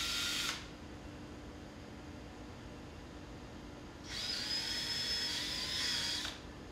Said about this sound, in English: Drill holes for the mounting hardware on the 2 marks on the level line.